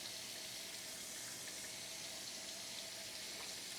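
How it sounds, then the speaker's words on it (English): Water runs steadily from a kitchen tap as a smoothie is made, a constant close hiss with no voices over it. "I know y'all hear I got the water on because I like to put a little hot water in there too"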